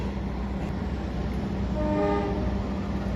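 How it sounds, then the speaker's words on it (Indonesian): The Serayu passenger train approaches a station from the west, a steady rumble of rolling stock with a faint horn-like tone rising midway, continuous and moderately loud without talk. "Dari arah barat udah terlihat kereta api Serayu masih menuruni."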